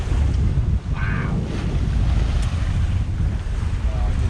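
Big ocean waves wash steadily around a sailboat on an open-sea passage toward the British Virgin Islands, a continuous loud rush of surf blended with heavy wind buffeting the microphone.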